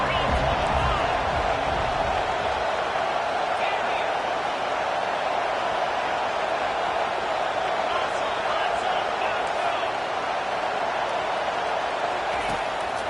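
Stadium crowd noise in a Madden football video game, a steady broad roar of a large crowd that rises slightly at the start, with commentary talk over it.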